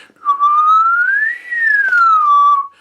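A single person whistles one sustained tone that glides smoothly upward, peaks, then slides back down to the starting pitch, clear and close with no talking.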